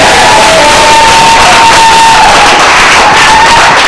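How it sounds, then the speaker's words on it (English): A comedy club audience in St. Louis cheering and applauding, a loud, dense roar of whoops and clapping held at full volume the whole time. "I want to hear some applause. Give it up for St. Louis"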